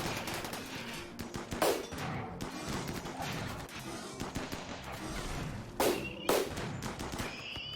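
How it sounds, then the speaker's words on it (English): Gunfire and grenade blasts ring out in a RimWorld battle as a steady stream of mid-distance cracks, with two sharper, louder bursts standing out. "Although it would help if you guys would throw those grenades."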